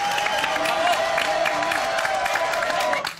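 Applause and cheering from a live audience greeting Barbara, a Miss contestant on a summer TV show; sustained, loud clapping with voices, tapering off sharply near the end.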